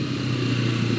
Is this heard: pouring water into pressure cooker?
no